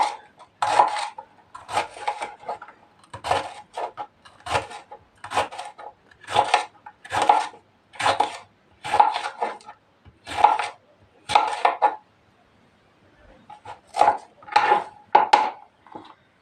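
A knife thinly slicing a red capia pepper on a cutting board, steady bursts of soft rasping cuts in a quick rhythm with a brief pause partway through, close and fairly quiet.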